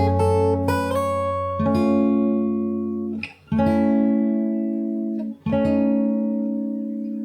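Fingerstyle electric or acoustic guitar plays a song part, ringing sustained chords and plucked single notes in a slow phrase with brief gaps between the held chords, moderately quiet and solo.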